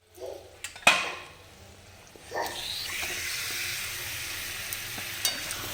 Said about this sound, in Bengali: তো আমি এখন মটনটা কড়াইয়ে সব মশলার সাথে অ্যাড করে নিই।